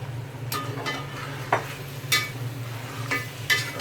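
A spoon stirs and scrapes through boiled chickpeas and spices in a pot in repeated strokes, roughly every half second, over a low steady hum.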